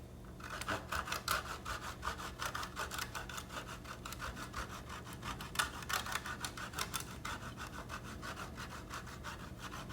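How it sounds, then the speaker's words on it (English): A block of Parmesan cheese is rubbed steadily across a metal grater, making close, rhythmic rasping strokes that run without a break for the whole stretch. "let's grate some cheese. This is Parmesan cheese. So we're gonna grate that."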